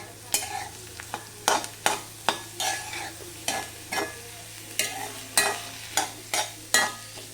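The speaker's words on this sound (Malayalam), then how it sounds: "ഇഞ്ചി ചതച്ചത് വെളുത്തുള്ളി ചതച്ചത് പച്ചമുളക് ഇതെല്ലാം ഇട്ട് കൊടുത്തിട്ട് നമുക്ക് നന്നായിട്ടൊന്ന് ഇളക്കാം" Crushed ginger, garlic and green chilies stirred in a pan for a cauliflower masala, a spoon scraping in a steady series of about fifteen distinct strokes over a soft sizzle, close and clear with no voices.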